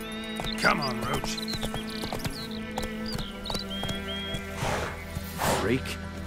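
Geralt's horse Roach trots in The Witcher 3, steady hoof clip-clops under game music, with a couple of whinnies and speech over the top.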